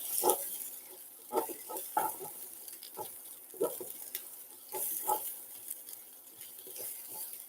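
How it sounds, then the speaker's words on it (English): Onions being stirred with a spoon in a pan, soft scraping strokes and light sizzling coming in irregular bursts, fairly quiet and close, with no talking. "And with a spoon, I'm going to stir."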